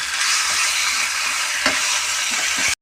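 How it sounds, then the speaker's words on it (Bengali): Marinated chicken frying in hot oil in a wok while being stirred, a loud continuous sizzle close up with a few scraping stir sounds, no talking. "এবার এটা ভালো করে উল্টে পাল্টে আমি ভেজে নেব।"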